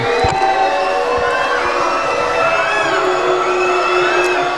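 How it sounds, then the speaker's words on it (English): A large indoor crowd at a college basketball game cheers and yells loudly and continuously during free throws, a dense roar of shouts and whoops with no break. "Thunderbird crowd makes some noise"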